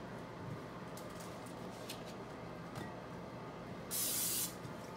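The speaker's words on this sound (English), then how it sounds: "I'm going to spray some cooking spray on them, kind of toss them in it." A short hissing burst of cooking spray onto potatoes rises sharply over a quiet kitchen background, preceded by a few soft clicks and rustles.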